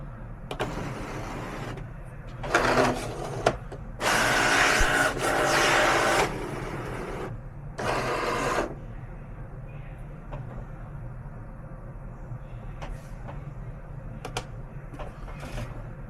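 A computer-driven cutting machine cuts a gasket for a Farmall H carburetor from 1.5 mm mat board, giving several bursts of whirring motor movement, some long and some short, with soft clicks between them over a low steady hum.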